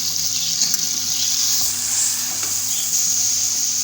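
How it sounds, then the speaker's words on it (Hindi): A pan of white chickpea curry masala sizzles steadily after a little water is added, a continuous hissing fry with faint stirring scrapes and no talk. "2 खाने के चमचे के बराबर पानी डाला है ताकि मसाला जो है वो ना लगे।"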